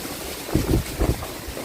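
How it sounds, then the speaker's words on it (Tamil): Strong natural wind blowing outdoors, gusting loudly across the microphone in two swelling bursts over a steady rushing background, with no rain. "பட் மழையை காணும், காற்று மட்டும் நல்லா அடிக்குது"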